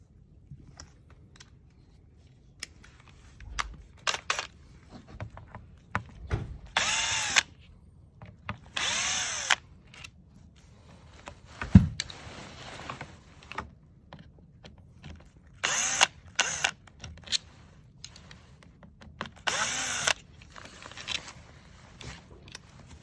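Silver bolts on both sides of a repair job are undone with 3mm and 4mm Allen keys, giving sharp, close metallic clicks and ratcheting bursts at irregular intervals over a low steady background.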